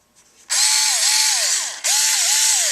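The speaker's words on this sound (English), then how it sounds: "this is still a strong little hand drill, and it looks like we fixed it" A Ryobi HP44L QuickTurn cordless lithium-ion screwdriver spins up in two loud bursts, with a steady whine and a pitch that dips and recovers under load and a short break between the runs.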